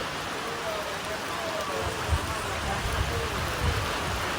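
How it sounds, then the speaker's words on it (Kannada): Heavy rain pours steadily outside a pani puri stall, a dense, even hiss of water with a few louder splashes, continuous and close throughout. "ಮಳೆ ನೋಡ್ರಿ ಎಷ್ಟು ಜೋರಾಗಿ ಹೊಂಟದ, ಫುಲ್ಲು ಸ್ಪೀಡಾಗಿ ಮಳೆ ಬಂತಂದ್ರು"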